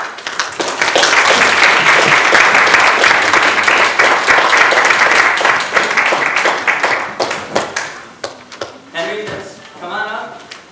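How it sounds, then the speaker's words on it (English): An audience at a humorous speech contest applauds the evaluation contestants. The clapping is loud and dense for about seven seconds, then thins out and fades as a voice starts speaking. "Thank you for the applause for all the evaluation contestants"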